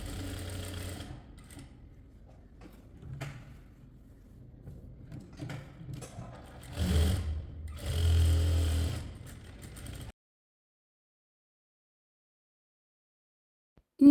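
A sewing machine stitches lining fabric onto a kurti neckline in a close, steady mechanical whir for about ten seconds, rising and falling in speed, then stopping abruptly into silence.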